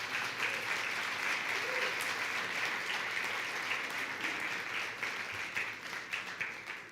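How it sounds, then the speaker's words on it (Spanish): A church congregation applauds for the Lord, sustained clapping from many hands filling the room at moderate distance, fading slightly toward the end with no voices over it. "¿Qué tal si le damos un aplauso al Señor por estos 43 años?"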